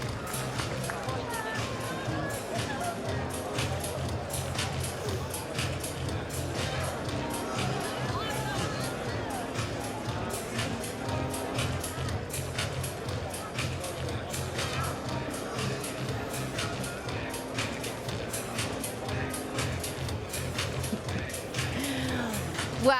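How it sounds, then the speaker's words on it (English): A large crowd of attendees files out of a hall after the PlayStation Experience 2015 keynote, producing a constant dense hubbub of shuffling footsteps and overlapping chatter, with indistinct voices throughout. "The crowd is filing out now"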